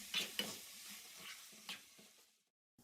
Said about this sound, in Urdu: کیچپ، چلی سوس ڈال کر چمچ سے مکس کریں۔